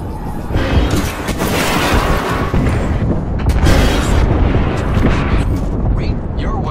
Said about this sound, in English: Signaling an airstrike.